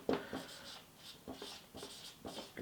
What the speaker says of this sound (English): So I'm actually gonna write that.